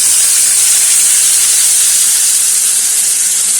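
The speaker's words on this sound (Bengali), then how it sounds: "হালকা একটু জল দিয়ে দিচ্ছি," Water hits a hot frying pan with onions, producing a loud, steady hiss of steam that holds for a few seconds without pause.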